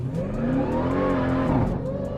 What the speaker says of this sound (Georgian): უბრალოდ დავაჭერ გაზის პედალს და წავედით